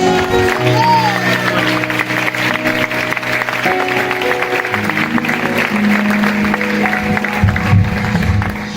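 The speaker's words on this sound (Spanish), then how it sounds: "Dale un fuerte aplauso." A church congregation claps along during a Spanish-language sermon at Iglesia Pan Bendito, steady applause blended with sustained keyboard music and a murmur of voices throughout.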